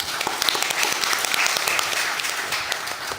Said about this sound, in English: I think we also give a round of applause for our first panelist